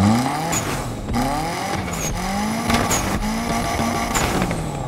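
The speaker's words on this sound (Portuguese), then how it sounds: "botar um escapamento, né? Quero ver se vai mudar o som." A Mitsubishi Eclipse GSX fitted with a new aftermarket exhaust revs in Need for Speed Unbound. The engine note climbs and drops in repeated loud rising sweeps, broken by short bursts of tire squeal, with no talk over it.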